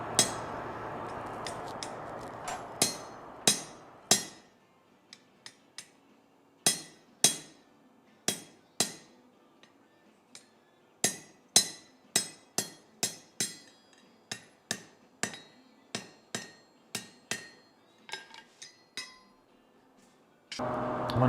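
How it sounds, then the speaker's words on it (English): A blacksmith strikes hot steel with a hammer over a fuller in a forge, each blow a sharp, ringing clank spaced in a steady, slightly uneven rhythm, with a short burst of roaring noise at the start and end. "when we bring it out of the heat next time, we're going to put a fuller in it"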